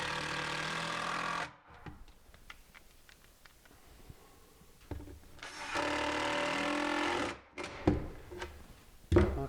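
A power drill drives a screw into a kitchen cabinet during installation. Two loud sustained whirring bursts are separated by quieter handling noise and clunks, with sharp knocks at the end.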